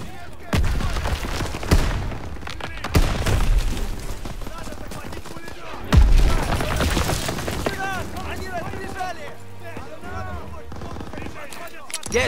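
Bursts of gunfire break out several times over a busy, loud Call of Duty WWII soundtrack with music and effects, sharp volleys standing out above the mix.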